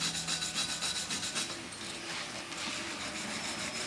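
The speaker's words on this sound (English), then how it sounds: "Wire brush. Clean off rust." A wire brush scrubbing rust off the hub mating surface of a Volvo 940 Turbo wagon, a close, rapid back-and-forth rasping that runs continuously for a few seconds.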